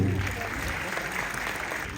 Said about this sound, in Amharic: አጨብጭቡ፣ ደስ ነው